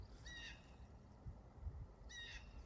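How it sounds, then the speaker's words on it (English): A bird calls in two short bursts of shrill, repeated notes in the distance, separated by a pause, over a steady low outdoor rumble with faint background noise. "that bird in the distance just started going insane"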